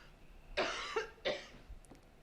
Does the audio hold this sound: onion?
no